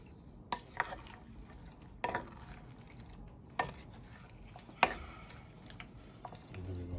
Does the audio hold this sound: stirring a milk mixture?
yes